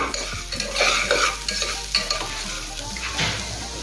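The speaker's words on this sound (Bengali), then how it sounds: "আবারও কিছুক্ষণ সময় নিয়ে ডালটা একটু নেড়ে চেড়ে ভেজে নেব" Moong dal sizzles as it fries in a pan with a green chilli, a spatula scraping and stirring through it in steady strokes, close and fairly loud with no talk.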